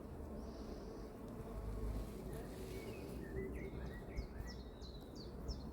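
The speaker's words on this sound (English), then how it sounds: "there are a decent quantity of bees in there" Honeybees hum steadily inside an open hive colony during an inspection, a soft continuous drone with faint bird chirps in the background.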